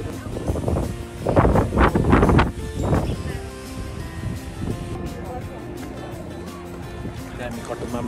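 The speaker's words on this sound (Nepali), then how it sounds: "चिसो हावा चलेको छ" Cold wind gusting across Katoomba railway station in the Blue Mountains rumbles as steady broadband microphone buffeting, with voices talking over it in the first few seconds.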